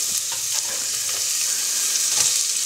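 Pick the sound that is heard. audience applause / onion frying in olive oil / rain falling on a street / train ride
onion frying in olive oil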